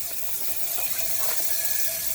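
Water runs steadily through an open-plugged Volvo Penta 5.7 marine engine block during a flush, a constant close hiss and splash with no pauses and no talking.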